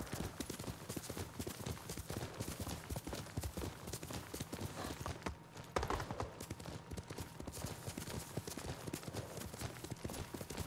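Horse hooves clip-clopping in the video game Ghost of Tsushima, a quiet steady rhythmic trot of hoofbeats continuing throughout with no talk.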